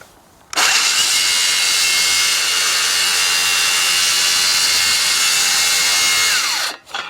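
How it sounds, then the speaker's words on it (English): Saw cutting through wood for a scarf joint in one long, steady, loud rasping pass lasting several seconds, close up, stopping abruptly at the end. "I've just finished that off with a handsaw"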